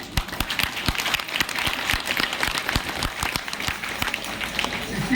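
An audience at a Ram Katha religious recitation claps in loud, rapid, steady applause that fills the whole stretch, with scattered voices mixed in.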